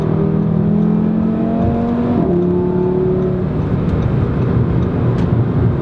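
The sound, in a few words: car engine revving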